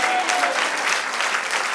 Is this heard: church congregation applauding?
yes